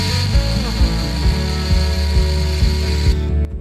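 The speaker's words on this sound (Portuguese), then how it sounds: "Eu vou utilizar aqui a furadeira, tá, porque tá mais fácil." An electric drill boring a hole for an antenna connector on a homemade antenna splitter: a loud, close, steady motor whine with faint ratcheting ticks, which cuts off abruptly just before the end.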